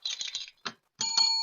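A bell rings on a live talk show, giving a few metallic jangles, then a short pause, then a sustained bright ring that holds a clear tone. It is close and fairly faint, with no talk over it.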